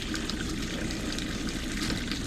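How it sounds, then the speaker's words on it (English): Water pump in a camper pulling pink antifreeze from a bucket through the water lines, giving a steady rushing flow of liquid from an open tap, even and continuous throughout. "as you open this, the water pump is going to start pulling out of the bucket"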